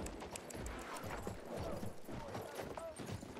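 Horse hooves in the video game Battlefield 1, on the Fao Fortress map, clop rapidly under a dense wash of battlefield noise, faint and partly masked, with some speech mixed in.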